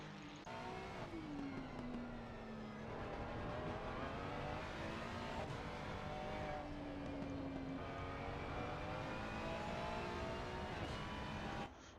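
A GT3 race car at Paul Ricard in Assetto Corsa Competizione screams through repeated upshifts, its engine pitch climbing, then dropping at each gear change, loud and continuous with no talk.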